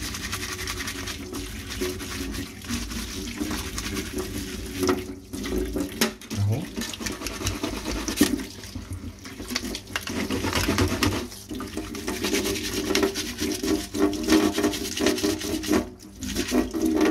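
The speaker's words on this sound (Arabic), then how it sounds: "انا هبتدي اغسل الساعه اهي" Running water splashes over a Casio G-Shock GA2100 watch being washed under a tap, a continuous close hiss and gurgle with shifting splashes and occasional handling knocks, no speech.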